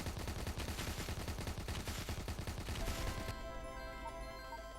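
Rapid turret gunfire rattles against an incoming enemy wave in the tower-defense game Road Defense: Outsiders, a dense stream of shots that cuts off after about three seconds, leaving a quieter tonal game soundscape.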